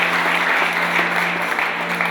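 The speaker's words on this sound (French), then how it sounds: "Applaudissez" An assembly at a church key-dedication ceremony of the Assemblées de Dieu in Burkina Faso claps together in a dense, steady burst of applause, moderately loud and continuous throughout.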